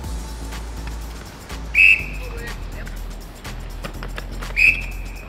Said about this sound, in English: the first thing you do is blow your whistle loudly and confidently